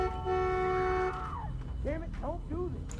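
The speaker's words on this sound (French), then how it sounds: "mais au moins il y a klaxon" A car horn in The Walking Dead video game blares in one long steady honk, then cuts off and gives way to a person speaking over low engine noise.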